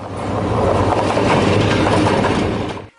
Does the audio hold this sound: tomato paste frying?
no